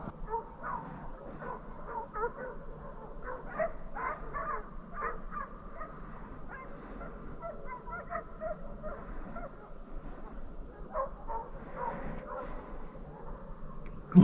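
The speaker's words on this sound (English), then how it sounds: "Dogs are already running. You might hear them way off in there" Hunting dogs bay and yip far off in woodland during a deer drive, a faint, steady chorus of distant voices carrying on and off throughout.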